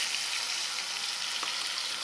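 A ground paste of onion, tomato, garlic and coriander sizzles in hot oil with cumin and mustard seeds, a steady close crackling hiss without talk.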